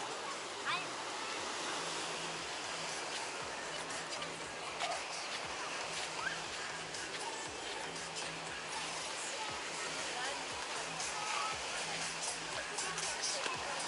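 Stormy sea waves break on a beach with gravel and sand as a constant broad roar of surf, moderately distant and steady, while faint voices of people can be heard in the background.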